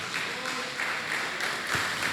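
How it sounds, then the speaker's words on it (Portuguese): A praying church congregation gives a brief round of applause to Jesus, heard as a continuous, blended patter of many hands at moderate volume. "Dê uma salva de palmas para Jesus."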